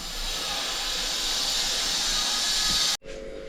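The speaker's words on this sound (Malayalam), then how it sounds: "അപ്പോൾ നമുക്ക് സൺഫ്ലവർ ഓയിൽ ഒഴിച്ച് കൊടുക്കാം" Sunflower oil hits a hot pan for aloo paratha filling, giving a steady loud sizzling hiss that holds throughout and then cuts off abruptly near the end.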